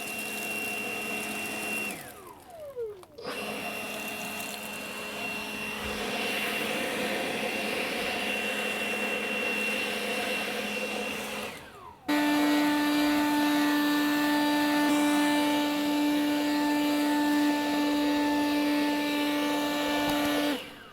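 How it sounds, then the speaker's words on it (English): Letheli battery-powered leaf blower running loud and steady outdoors, with a steady motor whine that cuts out briefly twice and then comes back stronger and higher-pitched for the final stretch. "I definitely think you'll like this Letheli blower."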